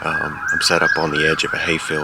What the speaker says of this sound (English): You can hear the ambulance in the background.